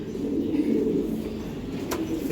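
A racing pigeon from a strong pedigree line coos in low, steady murmurs, close by, filling the clip with a continuous soft burbling.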